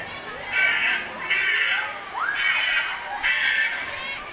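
A crow caws harshly four times in an even rhythm, each call loud and close, with brief pauses between them.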